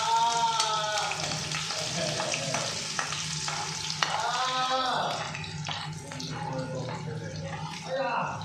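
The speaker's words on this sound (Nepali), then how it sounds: "पहिला हाल्छु म अदुवा" Ginger fries in oil left over from frying chicken in a small pan for a Nepali chicken achar, giving a continuous crackling sizzle. A person talks over it, and there is stirring and an occasional clink.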